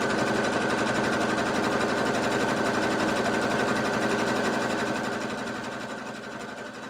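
Sewing machine running nonstop, stitching a 42-inch fabric strip, a dense rapid mechanical whir with a steady hum that fades slightly over the last couple of seconds, close and loud with no talk.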